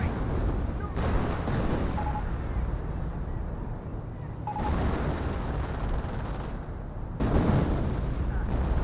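A creeping artillery barrage in the World War II strategy game Company of Heroes rumbles as repeated heavy, muffled explosions and bursts of fire. The shelling is rolling and layered, with booms swelling at intervals under an ongoing din.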